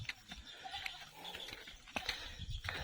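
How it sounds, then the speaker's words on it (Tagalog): Goats arriving on a farm, bleating faintly at a distance over rustling and low background noise, with a few short calls spread through the moment. "yung mga kambing nakarating na"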